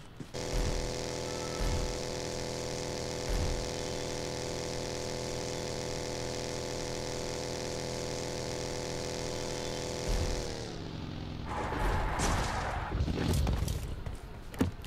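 A dune buggy's engine in PUBG Mobile drones steadily and loudly for about ten seconds, then its tone shifts and roughens with revving and clatter near the end. No talk is heard.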